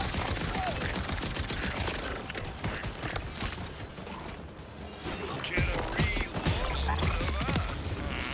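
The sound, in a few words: gunfire with heavy recoil in the video game Borderlands 4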